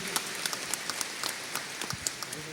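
Applause for a federal judge being honoured at a formal medal ceremony, a scattered, distant patter of individual claps from a seated audience, sparse and light rather than thunderous.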